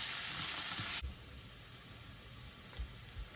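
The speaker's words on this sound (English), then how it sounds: "We'll fry these onions till they are just soft." Onions fry in a pan for paneer karahi, with a brief burst of loud hissing sizzle that quickly drops to a faint, quieter crackle and a few soft knocks.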